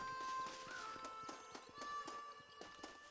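Horse hooves clip-clop at a steady walking pace in Red Dead Redemption 1, even and fairly close, with faint tonal game sounds drifting over the hoofbeats.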